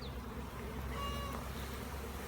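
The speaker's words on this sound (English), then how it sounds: "Get these bees out of here, scoot away, go on." Honeybees buzz steadily around an open beehive while honeycomb frames are being handled, a continuous close insect drone filling the whole stretch without talk.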